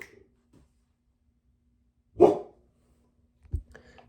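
A dog barks at wild turkeys outside a house, two short sharp bursts a second or so apart with quiet in between, fairly close and alone without talk.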